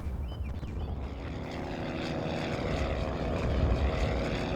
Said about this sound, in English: Here comes the aviatic. Coming towards me.